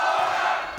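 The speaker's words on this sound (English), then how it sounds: "the crowd respond to that one because they could see it got through" Boxing crowd at a Swindon fight night roaring in response to a landed body punch, a dense sustained cheer from a packed hall that holds steady and then eases slightly toward the end.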